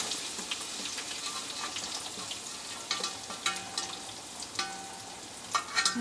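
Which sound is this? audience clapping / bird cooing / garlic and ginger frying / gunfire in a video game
garlic and ginger frying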